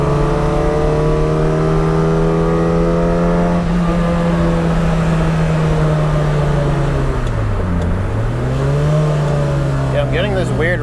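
A modified car's engine, prepped for a track event, holds a steady high idle after the throttle is released, then dips briefly and climbs back, a loud close drone with tonal harmonics.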